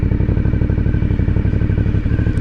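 A 2020 Aprilia Dorsoduro 900 motorcycle exhaust idles close up, giving a loud, steady, rapid throbbing pulse with a gritty rattle, and no voices.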